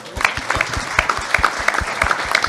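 Audience applause at a youth business pitch gala, with dense, steady clapping from a crowd filling the whole stretch at moderate loudness.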